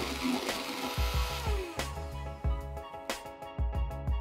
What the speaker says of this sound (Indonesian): Mixer kembali dengan kecepatan rendah asal sampai tercampur rata.